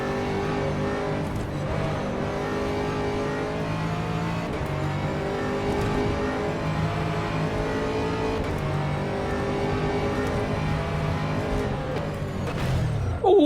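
A racing car engine in the rFactor 2 racing game drones loud and steady for the whole stretch, with shifting revs as the car laps, ending in a sharp burst.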